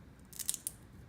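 A few quick plastic clicks as a pair of picture hanging strips snap together, sharp and close in a quiet room, with no talking.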